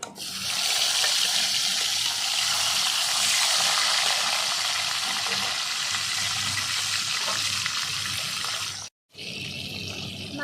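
Silver carp pieces sizzle steadily in hot oil, a loud, continuous frying hiss with a brief break near the end before the sputter resumes.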